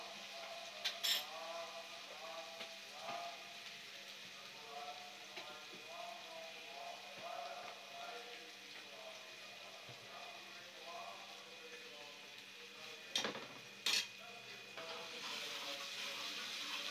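Onion with ginger-garlic paste frying in a pan, a faint steady sizzle with soft crackling and a couple of brief clinks, low in level with a quiet voice at times.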